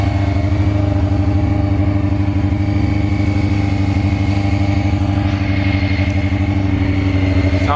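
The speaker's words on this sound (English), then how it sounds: "So I'm gonna let this bike warm up." A motorcycle engine idles outdoors while warming up, a loud, close, steady throbbing rumble that holds evenly throughout with no voices.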